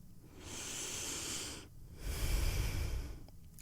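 A slow, deep breath taken in a calm guided-meditation setting: a long hissing inhale, a brief pause, then a fuller, heavier exhale, close and alone with no talk.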